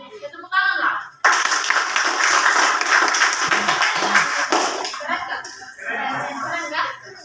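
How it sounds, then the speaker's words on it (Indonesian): Students in a high school classroom break into loud, dense applause lasting about three seconds, with voices talking just before and after. "Tepuk tangan lah."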